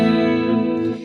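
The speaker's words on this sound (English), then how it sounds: "And with the compressor on, it sounds like this." Clean electric guitar run through a red compressor pedal in Bias FX 2 Mobile on an iPad, one sustained chord ringing evenly and close, slightly fading at the end, with no voices.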